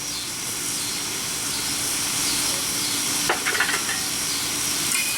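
Steady sizzling hiss of stir-fry sauce hitting a hot bird-bath wok full of garden vegetables, cooked outdoors, continuous and close, with a brief clatter of stirring partway through.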